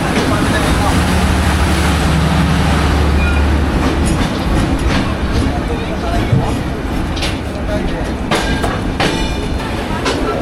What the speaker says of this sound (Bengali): প্রায় 6:45টার সময় আমাদের ট্রেন ছাড়লো রাজশাহী থেকে